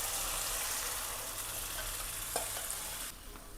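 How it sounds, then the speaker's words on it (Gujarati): Pea kadhi batter of gram flour and buttermilk being stirred in a pan, a soft continuous sizzle and bubbling with gentle scraping, close and quiet, ending in a brief drop. "હવે કઢી ઉકળે ને ત્યાં સુધી આપણે એને સતત હલાવતા રહેવાનું છે"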